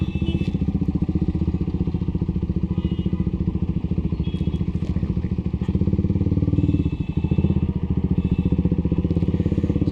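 A 2008 Honda Fireblade motorcycle engine runs at idle nearby, a loud steady rapid pulsing throb that swells slightly in the middle, with faint voices in the background.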